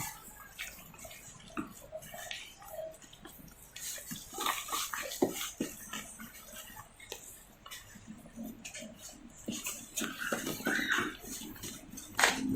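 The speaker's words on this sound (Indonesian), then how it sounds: "Ini diaduk rata terus." Banana steamed-cake batter is stirred by hand in a bowl, without a mixer, producing a continuous close wet scraping and sloshing with small clinks from the utensil against the bowl.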